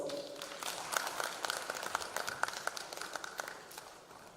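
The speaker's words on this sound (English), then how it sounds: "A big round of applause" An audience at an audit conference claps for a panel being presented with flower bouquets, a faint, distant patter of applause that builds, holds for a few seconds and then thins out.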